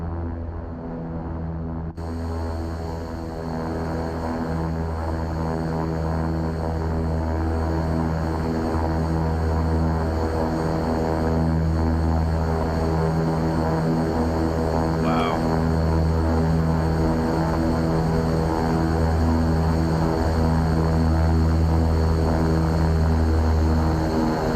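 A propeller aircraft engine drones at low idle while taxiing in the X-Plane 11 flight simulator, a loud steady hum with sustained low tones and a faint higher whine, heard alone without talk.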